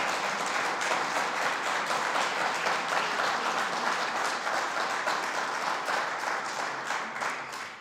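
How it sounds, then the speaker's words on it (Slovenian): Audience applause fills a lecture hall at the opening of a Slovenian evening panel on truth and compassion, dense steady clapping throughout that stays loud and eases off slightly at the very end. "tudi kakšen aplaz bo dobrodošel"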